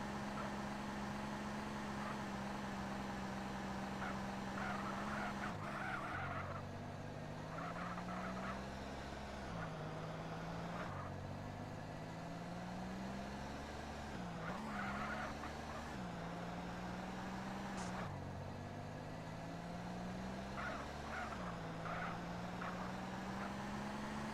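A car driven in the GTA MTA roleplay game, a small Celta-style taxi, hums with a steady engine drone that rises and falls in pitch as it accelerates and shifts, with no talking over it.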